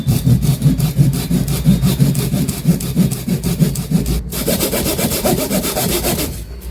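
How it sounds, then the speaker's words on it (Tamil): A 9-inch pull saw cuts through a membrane in fast, even back-and-forth rasping strokes, close and loud, with a brief pause near the end. "அடுத்து இந்த மெம்பரேனை கட் பண்ணி பார்க்கலாம்"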